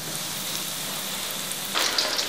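Small yellow croaker fish dropped into hot oil in a home kitchen, a steady fine sizzle that jumps to a louder crackling spatter near the end as the fish go in.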